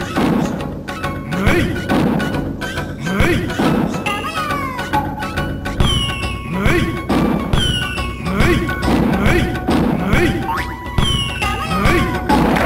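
Rhythm Heaven Silver fireworks minigame: repeated rising whistles and bright popping bursts set to a bouncy music track, arriving in a steady rhythmic pattern with cartoonish hits and a cat-like meow among the cues.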